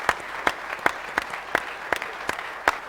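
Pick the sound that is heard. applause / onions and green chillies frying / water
applause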